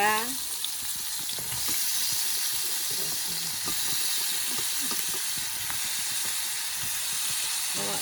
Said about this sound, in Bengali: তেলটা গরম হয়ে গেছে, এখন আমি দিব মরিচ কুচো কাঁচা লঙ্কা কুচো, তারপরে দিয়ে দেবো পেঁয়াজ কুচো